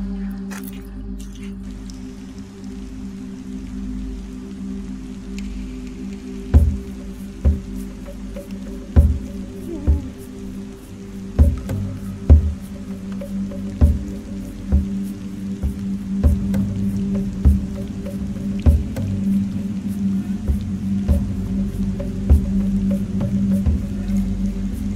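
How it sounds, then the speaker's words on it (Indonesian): Rain falls steadily in a valley, a low continuous patter with scattered louder drips and splats landing nearby at irregular intervals, steady and unbroken throughout with no voices. "Ini malah turun hujan."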